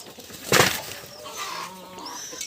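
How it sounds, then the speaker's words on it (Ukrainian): A hen being shooed out of a poultry shed gives a sudden burst of wing flapping, followed by soft, faint clucks and squawks nearby. "Курка там кричить"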